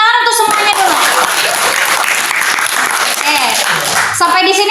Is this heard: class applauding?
yes